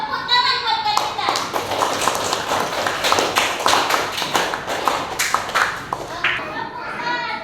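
Children in a classroom clap their hands together in a quick, uneven patter of sharp taps, loud and close, with young voices chattering and calling out over the applause.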